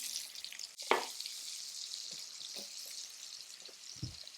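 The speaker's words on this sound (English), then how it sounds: "And then the onions go in." Onions hit a hot pan with rendered duck juices and sizzle steadily, a close, even frying hiss with a couple of brief clatters as they land and settle.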